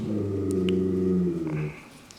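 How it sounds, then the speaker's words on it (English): A dog growls low and steady, close by, in a room where a refrigerator temperature sensor is being replaced; the rumbling growl holds for about a second and a half, then fades to quiet. "It's my dog growling."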